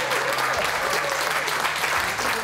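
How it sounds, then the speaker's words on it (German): A room full of people applauds the cook in a restaurant kitchen, a dense, steady wash of clapping that holds for a couple of seconds at close range. "Applaus!"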